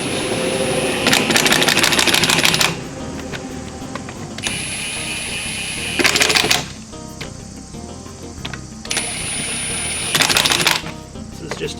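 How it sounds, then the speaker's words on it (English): Two-speed impact wrench on low, spinning on the lug nuts of a 3/4-ton eight-lug 1994 Chevy Silverado wheel in a crisscross pattern: several loud bursts of rapid hammering whir, each a second or two long, separated by quieter gaps. "2-speed impact. Go on low to begin with."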